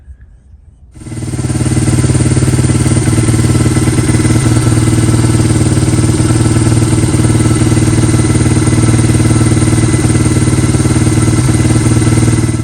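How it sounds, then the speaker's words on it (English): A Honda XR100 motorcycle engine starts and then idles steadily while warming up, a loud, continuous mid-pitched putter with light mechanical clatter that runs unbroken to the end. "You want to first start the bike and get it up to a good operating temperature."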